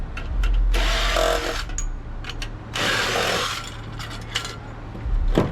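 A power drill backs out screws while copper and aluminum are scrapped, with two whirring bursts of the drill separated by brief pauses and small metallic clicks, close and fairly loud, no voices.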